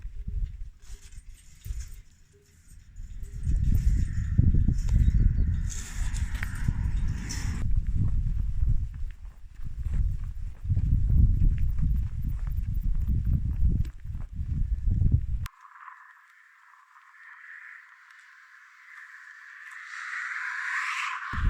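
Several horses standing and moving on the Camino de Santiago de Levante trail near Escalona, with footsteps and hoof clops in the open air and a brief quieter stretch near the end.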